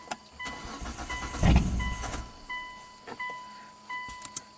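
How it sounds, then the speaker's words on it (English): A cheap Hyundai with a stalling fault is cranked over. Its starter turns in short, uneven bursts with clicks and relay ticks in between, fairly quiet and close. "Try to crank it again."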